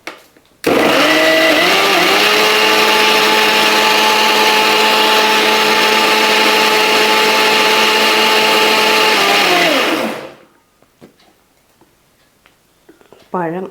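A mixer grinder blends banana batter for unniyappam, a loud steady whirring roar that holds for about ten seconds, dips slightly in pitch as the load changes, then cuts off. Faint clatter follows.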